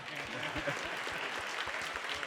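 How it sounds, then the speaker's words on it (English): A short burst of audience applause at a summit panel, many hands clapping steadily at moderate volume, with a voice partly audible underneath. "I didn't clap for Jake. That was good"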